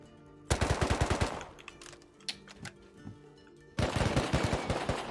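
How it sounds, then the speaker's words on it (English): Rapid bursts of automatic gunfire with explosive ammo in the survival game Rust, a fast volley, then scattered isolated shots and a quieter gap, then another dense rattling burst, close and loud. "he's shooting explosive ammo at me"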